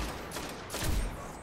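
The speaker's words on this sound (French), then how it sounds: "Prends mes grosses balles de snipe." Sniper rifle fire in a video game, a burst of rapid gunshots followed by a louder, heavier report, close and unaccompanied by talk.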